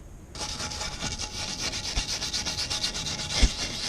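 A nylon brush scrubs an engine valve cover in steady, rapid back-and-forth strokes, close and moderately loud, with a couple of brief knocks near the end.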